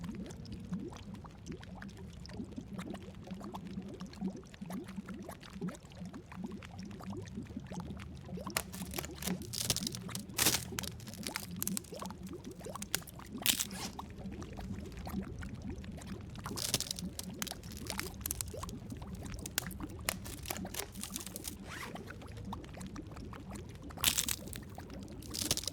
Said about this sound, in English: Okay, 8 minutes till the water's boiled.